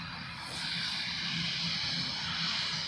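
A turboprop ATR-72 airliner flying overhead near the Channel Islands, heard as a steady, broad engine roar with a high whine that swells slightly as it passes, moderately loud and without speech.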